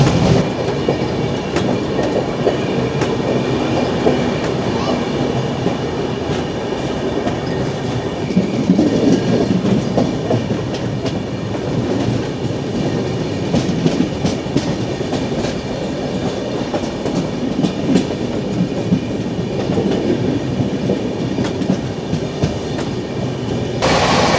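A train runs through Dankuni Junction without stopping, heard from on board as a loud, steady rumble with rhythmic clickety-clack of wheels over rail joints, no voices.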